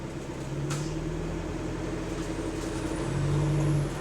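A route 161 bus engine idles with a steady low rumble and hum, its tone rising slightly toward the end, with no talking.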